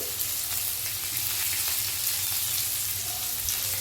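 Kakrol (spiny gourd) sizzles in a pan with chopped onions over a gas flame, a dense, steady crackling fry with faint scraping, close and continuous throughout.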